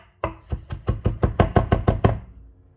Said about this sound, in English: all I'm doing is just chopping and hashing